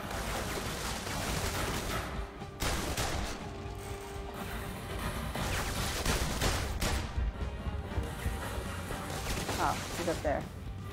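Gunfire in Super Terminus, a PlayStation VR shooter, with quick shots and mechanical clacks scattered through a dense, steady layer of game noise and music while a player talks over it.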